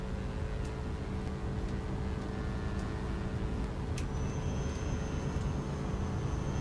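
Steady, loud cabin drone of a Diamond DA-62 twin-engine propeller plane climbing off the runway, a broad continuous roar with a few faint clicks and tones on top and no talking.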